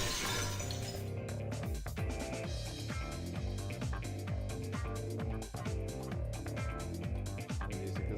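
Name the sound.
breaking glass in the video game Fate/Extra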